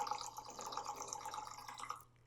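Black kavuni rice being rinsed in water: a soft, steady wash of trickling and splashing that runs for about two seconds, then stops.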